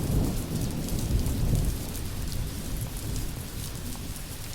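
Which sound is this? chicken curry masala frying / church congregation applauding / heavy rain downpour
heavy rain downpour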